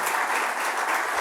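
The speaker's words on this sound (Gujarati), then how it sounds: "જોરદાર તાળીઓથી આપણે એમનું સ્વાગત કરીએ" An audience claps in welcome for a renowned cardiologist speaker at a talk, a brief dense burst of applause filling the hall evenly from start to finish.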